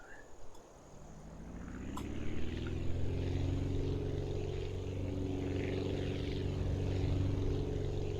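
Propeller airplane engine in the flight game Aviassembly, a steady droning hum that swells in the first few seconds and then holds at a constant level, with no talking.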